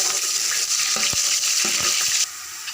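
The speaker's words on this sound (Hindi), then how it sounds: "ये मैंने प्याज को तल लिया।" Onions frying in ghee for biryani give a dense, even sizzle with a few sharp spoon knocks and scrapes midway, close and loud, easing slightly near the end.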